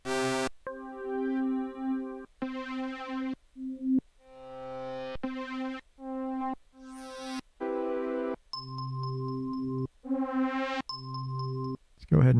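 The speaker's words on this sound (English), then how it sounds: "Go ahead and get that bell going on." Synthesized bell tones from Ableton Operator ring out as a string of separate sustained notes of varied length and pitch, clear and steady with short gaps between them and no voices.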